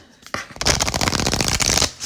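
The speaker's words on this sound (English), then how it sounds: "I'll just give it one more shuffle." A deck of tarot cards is riffle-shuffled in one quick burst, a dense fluttering rattle up close lasting under two seconds.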